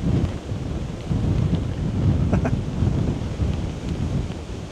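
Strong gusty wind on the coast at Sint-Annaland in the Netherlands, buffeting the microphone in a steady loud low roar with swelling gusts and no pauses.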